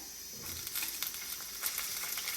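Seasoning sizzles softly in a pan for a Telugu bottle gourd yogurt chutney, a continuous faint crackle with small pops, before green chillies go in. No one speaks.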